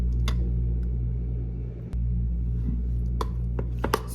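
Boiled egg yolks are smashed in a bowl for spicy deviled eggs. A handful of sharp, scattered knocks and taps rise over a low steady hum.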